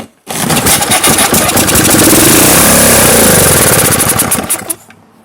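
A 1978 Tecumseh 5 HP LAV50 small gasoline engine, low on fuel, sputters to life, runs loudly and roughly for a few seconds with uneven revving, then cuts out abruptly.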